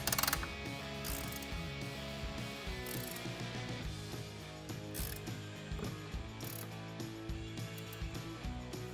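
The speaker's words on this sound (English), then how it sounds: "we can tighten up the 2 on either side with a 10mm ratcheting wrench" A 10mm ratcheting wrench clicks steadily as it tightens 12-point bolts on a Jeep Wrangler JL spare tire mount, a close, continuous metallic ratcheting run with brief pauses and a louder burst at the start.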